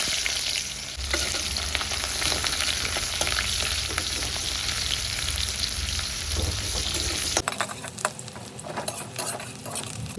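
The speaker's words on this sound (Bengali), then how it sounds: "এবার আমি তেল দিয়ে দেবো, কয়েক কুচি পেঁয়াজ দিয়ে দেবো" Chopped onion pieces frying in hot oil in a pan, a loud continuous sizzle with stirring scrapes, close up; the sizzle drops off abruptly near the end, leaving quieter clinks and crackles.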